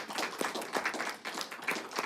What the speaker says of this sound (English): Yeah, go ahead, applaud,